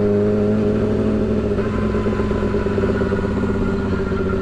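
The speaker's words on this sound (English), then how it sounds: "I feel like the idle's a little high right now, but it's okay." A vehicle engine idling slightly high, a steady, close, throbbing hum with a firm low rumble and faint rattling, holding an even level throughout with no talking over it.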